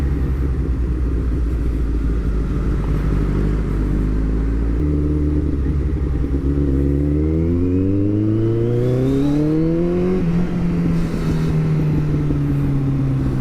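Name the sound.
powerful motorcycle accelerating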